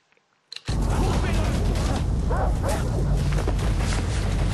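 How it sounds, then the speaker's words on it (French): Dogs barking in the jungle of the video game Far Cry 3, loud and continuous amid dense gunfire-like booms and rumbling game ambience after a brief quiet start. "quand on entend les beuglements de chien derrière, ça met pas bien à l'aise"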